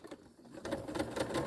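A sewing machine stitching a quilted wildlife panel begins after a short quiet start and runs in a rapid, even mechanical whir. It sounds close and steady, with no voices.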